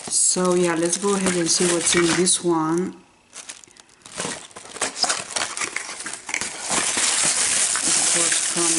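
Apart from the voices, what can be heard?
unwrapping paper packaging of Tarte mini haul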